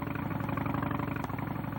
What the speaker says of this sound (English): Police officers must remember to wear their helmets when riding on their motorcycles.